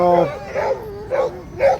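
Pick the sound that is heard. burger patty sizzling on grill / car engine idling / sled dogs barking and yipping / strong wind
sled dogs barking and yipping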